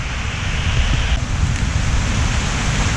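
Heavy rain falls outdoors along a rural road in Kerala, heard from under a teak tree as a loud, steady hiss with no pauses and no talking.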